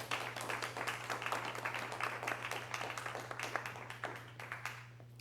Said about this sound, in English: And I like the applause